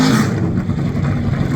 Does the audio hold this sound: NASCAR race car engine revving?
yes